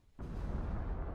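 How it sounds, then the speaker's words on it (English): Dynamite blowing up in the video game PEAK: a sudden loud boom that swells into a sustained, rumbling roar filling the rest of the moment, with no talk over it. "I didn't know there was like a dynamite there"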